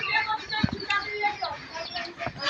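Chickens cluck in short, irregular bursts close by in a rural farmyard, mixed with faint background voices.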